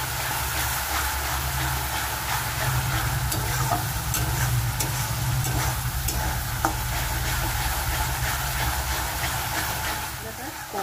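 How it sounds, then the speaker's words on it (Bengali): Ground spices, including cumin powder, are stir-fried in a pan for a potato dish with small fish. A loud, close, continuous sizzle carries steady scraping and stirring throughout. "এবার মশলাগুলোকে ভালো করে কষাবো।"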